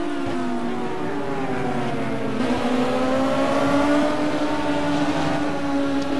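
A race car in the sim racing game ALMS Team Series 2012 roars at high revs with a loud, continuous engine whine that dips briefly with a gear change, then climbs and holds steady.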